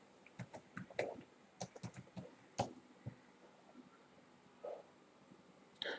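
Fingers typing a short search query on a computer keyboard, quiet close-up key taps in a quick irregular run followed by a few scattered presses, with no voice.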